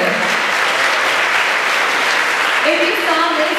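A concert audience at a multicultural choral event at Bishop Ireton claps warmly for the technical crew, sustained dense applause throughout, with a voice briefly emerging near the end.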